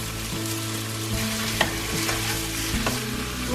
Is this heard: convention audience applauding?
no